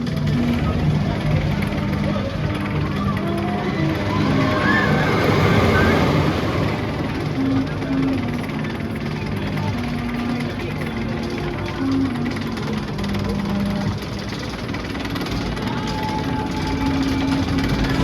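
Wickerman wooden roller coaster at Alton Towers rattles and rumbles continuously during the ride, a dense clattering roar with wind noise and faint voices underneath.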